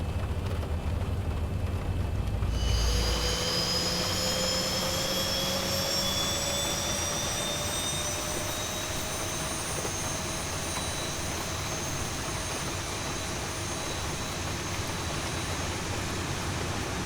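A Boeing 737-800 jet engine spools up in the X-Plane 11 flight simulator: a steady, loud turbine whine rises and holds, with a low rumble at the start that fades, alone with no talk.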